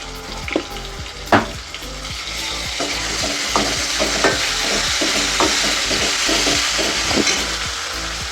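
Ginger garlic paste frying in hot oil with onions, a steady loud sizzle broken by scraping stirs and clacking spoon knocks against the pan, with no voices.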